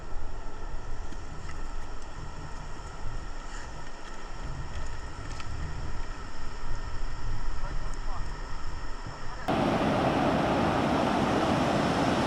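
Floodwater from heavy rain rushes through a forest river in a steady, broadband roar that turns louder and harsher near the end.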